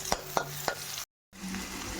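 Onion tossed with vegetables in a pan for homemade Chinese-style noodles: three quick spatula scrapes over a steady sizzle, then a brief gap of silence before the frying hiss picks up again.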